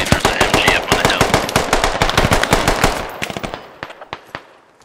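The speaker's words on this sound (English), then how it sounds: "There's an MG up on the hill." Machine gun fire in a first-person war video game on a round at Kemdesh, with a loud close burst of rapid rhythmic shots that thins into scattered single shots and fades out, with no talking.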